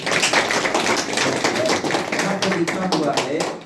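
Steady clapping from a church audience in a worship service, dense and close, continuing evenly for several seconds with some voices heard underneath.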